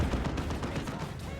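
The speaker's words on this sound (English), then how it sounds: "Another Manticore strike." Manticore artillery strike in the video game Dawn of War 2, a dense continuous barrage of booming blasts and crackling impacts filling the whole moment at steady loudness, with a hint of voice underneath.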